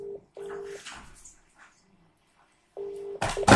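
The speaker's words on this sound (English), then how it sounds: "Now if I make a call from John to Peter, the status will be changed to red color. So now you can see the status is changed and Peter phone is ringing" A Grandstream desk phone ringing on an incoming call, with short electronic tone bursts that start and stop in an uneven pattern between quiet gaps, ending in a louder noisy burst.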